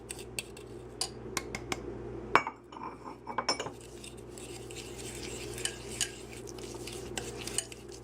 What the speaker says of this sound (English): we'll just start adding our other ingredients and whisking them in